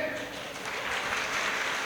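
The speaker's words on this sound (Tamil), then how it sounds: "எப்படி கைத்தட்டு வாங்கினேன் பாத்தீங்களா?" Brief burst of audience clapping at a Tamil New Year debate forum, a dense, fairly soft patter that continues evenly without a clear end.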